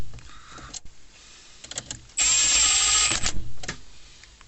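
A power tool tightens bolts back onto a Vauxhall Vivaro (Renault Trafic dCi) engine: a close, steady whirring burst of about a second follows a few light clicks and taps.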